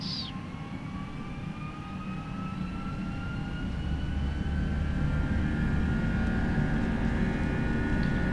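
Airliner engines in an A320 flight simulator spooling up to takeoff power on the runway, with a rising whine and a deepening roar that grows louder and steadier over several seconds, no talk.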